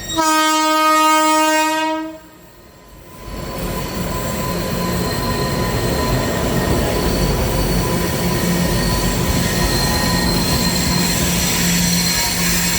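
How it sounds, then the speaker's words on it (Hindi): A Durg–Visakhapatnam Vande Bharat Express sounds a loud, sustained horn for about two seconds, then rushes past close by with a steady roar of wheels and rail noise that continues to the end. "आ रही है भाई वंदे भारत एक्सप्रेस दुर्ग विशाखापट्टनम"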